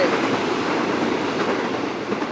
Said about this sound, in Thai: ก็ยังมีรถไฟวิ่งผ่านมาเรื่อย ๆ นะครับ คราวนี้เป็นรถขนหินครับผม